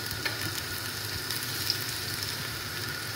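Garlic frying in hot cooking oil for an Arabian meat kabsa, a steady close sizzle with a faint crackle, continuous and even throughout, no voices.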